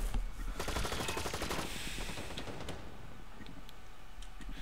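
Fast automatic gunfire in the shooter game Blacklight Retribution, a dense loud burst of rapid shots that tapers into scattered fainter fire, no talk.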